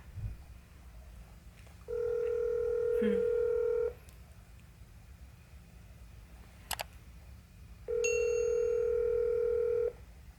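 Two long steady telephone tones, each about two seconds, separated by a pause, with a faint click between them over a quiet background hum.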